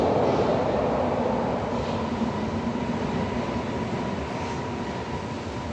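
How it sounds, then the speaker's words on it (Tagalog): A train arrives at a station in Berlin with a loud, continuous rolling rumble that eases slightly as it draws in. "Parating na ang ating train."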